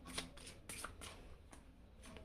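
Tarot cards shuffled by hand, a quiet run of quick papery riffles and slaps in close succession.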